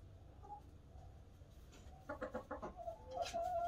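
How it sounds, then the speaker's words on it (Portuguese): Two black and one white Indio Gigante hens and a rooster cluck softly in a renovated pen, with a short run of quick, close clucks and a brief higher call near the end over quiet background. "Duas galinhas índio gigante, duas pretas e uma branca, e esse galo aqui."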